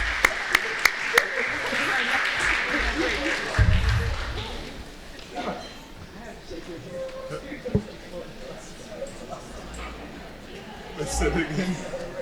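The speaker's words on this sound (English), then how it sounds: "A round of applause, actually," Brief applause for everyone on stage at a public task force meeting, starting with a few sharp claps, then mixed with chatter and talk as the room settles.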